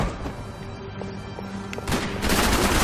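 Shotgun blasts in the video game Max Payne 3, a few loud booming shots near the end of the clip over game ambience.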